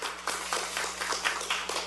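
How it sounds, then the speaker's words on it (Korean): An audience at a political party event claps in scattered, uneven bursts. The applause is moderately loud and close, with a steady low hum running underneath. "따뜻한 응원의 박수 부탁드리겠습니다"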